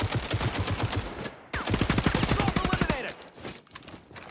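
Rapid gunfire in the first-person shooter Caliber, loud bursts of closely spaced shots with a short break before a second volley, fading into quieter background noise near the end.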